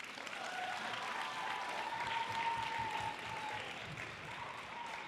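A school Veterans Day celebration audience applauds a marching band with steady, sustained clapping from a crowd in a large room, heard at moderate distance with a faint voice underneath.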